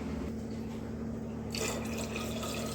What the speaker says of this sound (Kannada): ಇದಕ್ಕೆ ನಾನು 1 ಗ್ಲಾಸಷ್ಟು ನೀರು ಹಾಕ್ತಿದ್ದೀನಿ